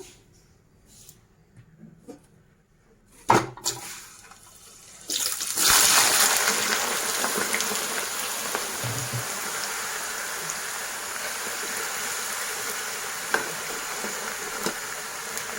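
Potato slices deep frying in hot oil: after some quiet clinks, a sudden loud burst of sizzling erupts as the slices go in, then settles into a steady, crackling hiss that carries on to the end.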